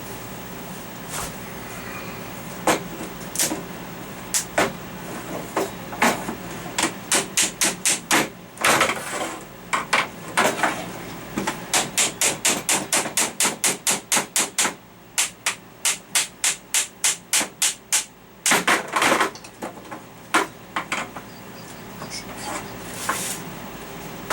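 Handsaw cutting PVC pipe for a homemade pack frame, heard as bursts of fast, rhythmic rasping strokes close by, with brief pauses between cuts and some clatter of handling.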